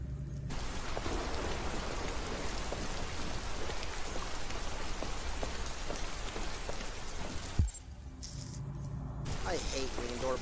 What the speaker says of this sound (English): The rain lasts until Jason drowns